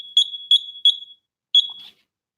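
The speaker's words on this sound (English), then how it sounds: "Let me turn on my alarm too." A home alarm system keypad emits a row of three quick high-pitched beeps, a short pause, then a fourth beep, close and clear in a quiet room.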